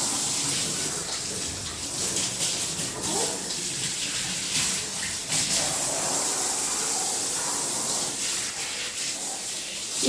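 Water runs steadily as a dog's coat is rinsed in a bathtub during grooming prep, a continuous close splashing and flowing hiss with no talk over it.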